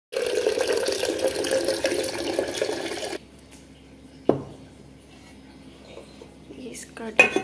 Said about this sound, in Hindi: तो पानी इसमें भर देती हूँ देखते हैं